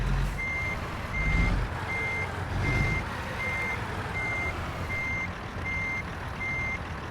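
A truck reverses with a steady run of evenly spaced backup beeps over a low, continuous engine rumble, heard close and with no talking.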